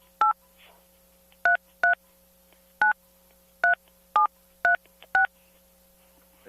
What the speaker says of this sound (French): Veuillez composer les 10 chiffres du numéro de téléphone ou du numéro de facturation pour lequel vous appelez.